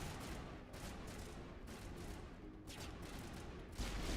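Faint, steady gunfire from shooting in the sci-fi game Mass Effect, a continuous rattle of rapid shots pulsing in short repeated bursts with no talking.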